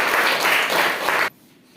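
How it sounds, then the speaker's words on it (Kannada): Loud applause from a group of schoolchildren at a classroom quiz show, dense steady clapping for about a second and a half that then stops abruptly. "ಎಲ್ಲ ಮಕ್ಕಳು ಜೋರಾದ ಚಪ್ಪಾಳೆ ತಟ್ಟೆ."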